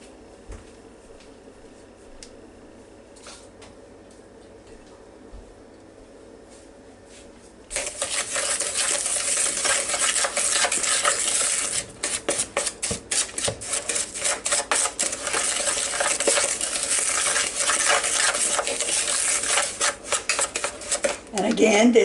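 Apples with cinnamon, white sugar and brown sugar being stirred in a crockpot, a bright continuous scraping and clinking of a utensil against the pot that starts abruptly after a quiet stretch and keeps going close by.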